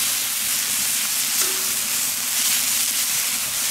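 Burger patties pressed on baking paper sizzle and fry on a hot grill fire plate, a steady close hiss filling the whole stretch with no talk over it.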